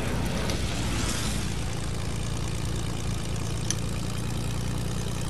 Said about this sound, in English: There's a plane might come hit you.